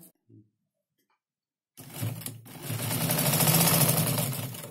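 A sewing machine stitches a fabric strip onto a square cushion cover, starting after a short silence and then running as a steady, close, fast mechanical whir.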